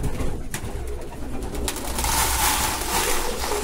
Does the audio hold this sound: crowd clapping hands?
no